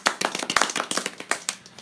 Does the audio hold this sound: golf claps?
yes